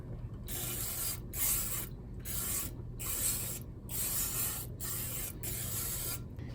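Bursts of spray cleaner rinsing a valve cover area on a 2006 Ford Fusion 3.0 V6 during a gasket replacement, about seven rhythmic hissing sprays close up with brief gaps between them, no talking.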